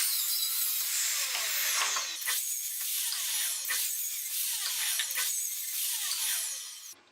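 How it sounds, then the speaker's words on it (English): A miter saw tilted sideways makes repeated angled cuts through wooden stretchers for a plank car ramp, each pass a loud rising whine with a rasping bite that fades before the next, heard close with no talk. "I marked their length and cut them with the miter saw tilted sideways"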